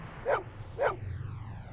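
Two clear dog barks from the Blade Runner video game, spaced about half a second apart, fairly close and loud over a low ambient hum.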